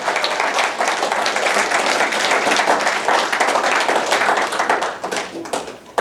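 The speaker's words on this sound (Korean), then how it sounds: "있으면 박수 쳐주셔야 돼요" Audience members at a lecture break into loud, dense clapping that stays strong for several seconds before tapering off, with a final clap at the end.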